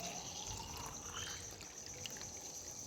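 Washed mangoes draining, water trickling and dripping steadily off the fruit at close range, a soft continuous dribble with no talk.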